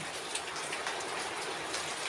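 Monsoon rain pours steadily in a village, a close, loud, even hiss of falling water with scattered drop splashes and no voices.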